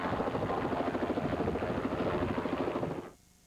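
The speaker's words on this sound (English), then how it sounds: "Several large cities like Los Angeles used choppers as an eye in the sky to help keep the peace." Police helicopter flying overhead above a large city, a loud steady rotor chop and engine drone throughout, cutting off abruptly near the end.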